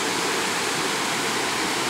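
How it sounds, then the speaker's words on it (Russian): A small waterfall beside a river in Viñales, Cuba, pours in a constant, dense rushing roar, steady and close with no pauses or voices. "С этой же стороны небольшой водопад"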